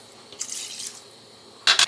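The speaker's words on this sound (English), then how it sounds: "And then I'm going to add in 2 cups of chicken broth as well as 2 cups of water." Chicken broth and water pour into a soup pot, a close splashing stream for about half a second, then quiet, followed by two short, louder bursts of pouring near the end.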